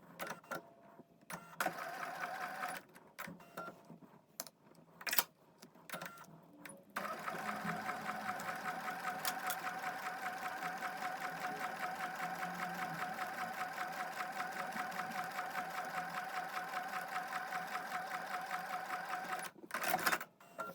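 Sewing machine stitching fabric for foundation paper piecing, short stop-start bursts at first, then a long steady run of rapid needle chatter that ends abruptly, close and clear with no voices.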